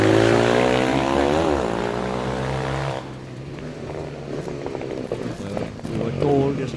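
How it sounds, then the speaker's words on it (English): A Kawasaki D-Tracker motorcycle taking the final flag at the Southern Eliyakanda hill climb, its loud revving engine rising in pitch then cutting off abruptly, followed by crowd and outdoor noise as a commentator talks. "Taking the final flag, we have 295 Dinusha Pereira. This Kawasaki D tracker"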